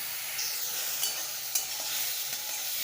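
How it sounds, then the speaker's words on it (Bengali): Prawns frying lightly in a pan give a soft, steady sizzle with a few brief clinks of stirring, close and fairly quiet, with no voices. "একটু হালকা করে ভেজে নিই চিংড়ি মাছগুলো।"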